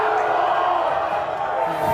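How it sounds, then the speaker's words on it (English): A high school soccer crowd at an Eastlake home senior night game against Mount Si roars in protest at a foul call. The massed shouting and jeering carries at a constant loud level across the whole moment. "Eastlake crowd is quite riled up."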